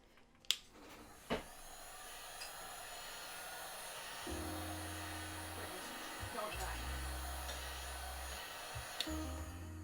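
A heat gun shaping a foam bracer starts up partway through with a steady blowing hum that dips briefly a couple of times, after a few sharp clicks and handling knocks.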